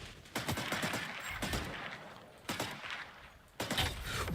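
Video game gunfire crackles in rapid bursts, with several separate volleys broken by short pauses.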